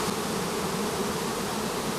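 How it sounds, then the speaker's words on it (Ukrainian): A dense swarm of honey bees hums steadily at an apiary, a loud, continuous buzzing with no pauses and no voices over it. "Мільйони пчол. Видите, вони зовсім безобідні, нікого не кусають."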